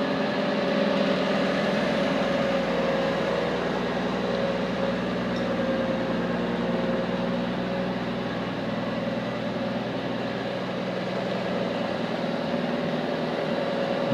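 A Chevy 4.1 engine running on a wood gasifier drones at a steady idle throughout, a continuous near hum with no talk over it.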